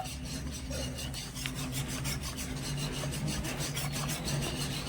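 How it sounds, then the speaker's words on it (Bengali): A whisk stirs powdered milk into lukewarm water in a bowl, a steady scraping, rubbing rhythm of repeated strokes heard up close and moderately loud, with no voices. "একটা হুইক্স দিয়ে ভালো করে আমি গুঁড়ো দুধটা জলের সাথে মিশিয়ে নিয়েছি"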